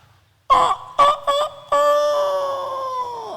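A human voice imitates a chicken, giving three short clucks followed by one long drawn-out crowing call that slowly fades, loud and close with no other sound.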